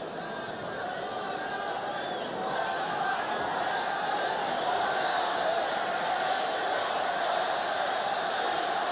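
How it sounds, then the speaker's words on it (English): A packed arena crowd at a 1985 Lakers–Suns basketball game at the Forum roars and screams for Nevitt, a broad, sustained wall of cheering that swells slightly and holds without a break. "You can hear the crowd screaming for Nevitt."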